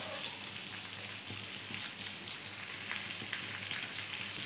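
Fish fries in oil with curry leaves and home-made masala, giving a continuous, soft crackling sizzle with faint pops scattered through it, steady and unbroken, with no voices.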